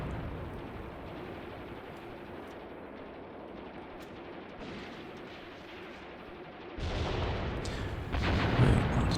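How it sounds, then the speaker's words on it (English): Artillery fire in the war game Graviteam Tactics rumbles through steady distant battle noise, then heavy blasts swell louder near the end. "There's my artillery coming in."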